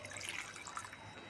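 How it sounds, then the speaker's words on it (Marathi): Water is poured over cut potatoes in a cooking pot, a soft, continuous splashing trickle heard quietly and up close for a brief moment. "पाणी घालायचं।"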